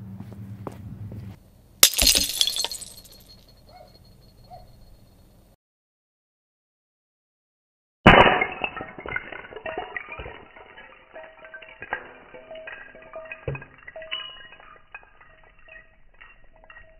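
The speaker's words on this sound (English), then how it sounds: "We're going to be dropping a bowl right here and see if we can get some shattering on it." A ceramic bowl dropped for a slow-motion shot hits the floor with one loud, sharp crash and a burst of shattering, then fades into fine clinking fragments and silence, followed by a stretch of rustling, clattering handling noise.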